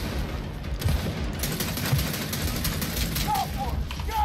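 Gears of War 4 campaign combat brings bursts of rapid gunfire and impacts crackling in the game mix, repeated over a few seconds, with players talking over the action.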